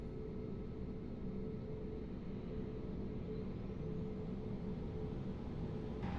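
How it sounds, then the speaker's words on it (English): An airliner engine in Microsoft Flight Simulator drones at a steady, even pitch, a constant low rumble with a faint whine and no change throughout. "And we'll take a listen to engine number 2."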